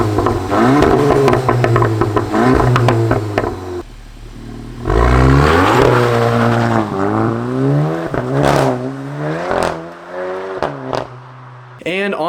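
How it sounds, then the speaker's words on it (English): Volkswagen Golf GTI Mk8 on an IE Stage 1 Pro crackle tune, engine revving up and down with sharp exhaust pops and bangs between throttle blips, loud and close throughout. "I went IE Stage 1 Pro with the Crackles, which completely changes the way this thing pops and bangs"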